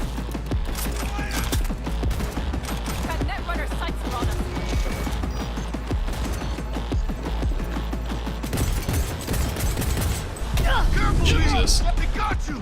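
Dense bursts of gunfire from the video game Cyberpunk 2077, rapid automatic shots and crashes rattling on throughout, mixed with game sounds and a player talking over the action.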